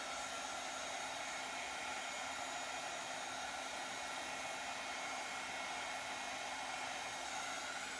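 Heat tool warming chalk surface wax, a steady, even blowing hiss with a fan whine, constant and fairly faint throughout, no talking.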